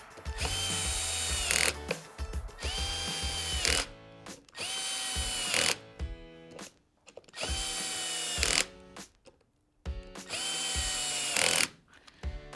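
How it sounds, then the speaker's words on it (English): A power drill driving fasteners one after another in a star pattern while a valve is rebuilt, five whirring bursts of about two seconds each with short pauses between, faint and alone. "I'll reinstall the remaining 6 fasteners. I usually like to work in a star pattern."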